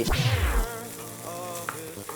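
Curry fried rice being stir-fried in a pan over high heat, with a loud opening sizzle and scrape that settles into steady frying hiss, alone without talk.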